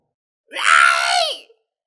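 A long, loud scream, a single sustained cry lasting about a second that rises and then falls away, heard alone against silence in a narrated fantasy story.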